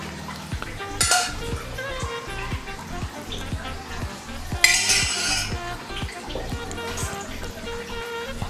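A spoon clinks and scrapes against a steel bowl while sweet chutney is spooned onto a Jodhpur-style onion kachori, with small repeated metallic taps and a louder clatter twice.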